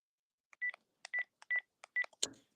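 A Panasonic cordless phone plays a short, quiet electronic tone pattern of four beeps in an even rhythm with clicks between them, then a brief rustle at the end.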